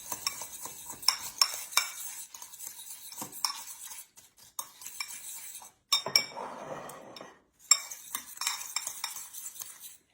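A pecan nut mixture stirred in a bowl with a utensil, irregular bursts of scraping and clinking against the bowl separated by brief pauses, close and fairly quiet.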